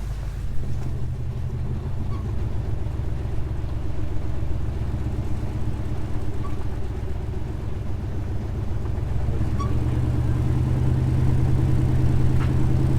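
The engine of the world's largest off-road wrecker rumbles deep and loud during a recovery, holding a steady low idle that grows slightly stronger toward the end.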